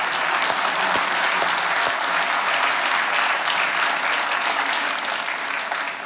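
Audience applause at a town mayor's 2019 New Year wishes ceremony, a dense, steady wash of clapping from a large crowd that holds evenly for about six seconds and thins slightly at the end.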